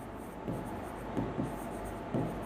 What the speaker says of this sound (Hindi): एक क्वेश्चन में लिख रही हूँ यहाँ पे